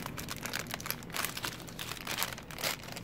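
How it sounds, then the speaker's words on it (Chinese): Crinkly plastic packaging around a Yamaha neutral switch assembly for an old motorcycle is torn and crumpled open by hand, a close, continuous rustling and crackling with no talking. "那我们把它撕开来看一下"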